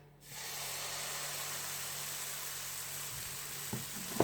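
Radish paratha batter meets a preheated pan and sets off a steady, close sizzling hiss that holds for about four seconds, with a couple of light knocks near the end.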